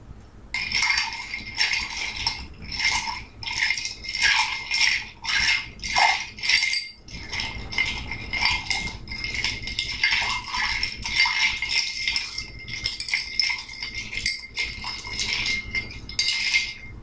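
Ice cubes rattle continuously against a mixing glass as a drink is stirred, a loud, close, steady clattering and jingling that runs for most of the stretch with a brief pause midway.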